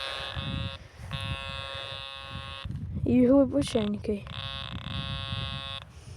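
A metal detector sounds over a buried target in a field, its steady electronic buzz repeating in long pulses, close and loud, while someone talks briefly in the middle.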